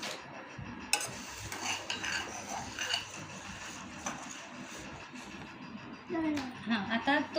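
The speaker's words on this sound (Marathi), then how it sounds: "हां आता गोल गोल ढवळ मिक्स कर" Bhel mixture with peanuts stirred round and round in a bowl, a soft scraping and clinking of a spoon under a child's and adult's chatter throughout.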